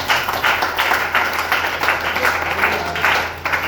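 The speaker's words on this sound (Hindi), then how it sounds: "जोड़ा ताली सभी के लिए" An audience at a motivational seminar claps together, loud sustained applause from many hands with a slight rhythmic pulse.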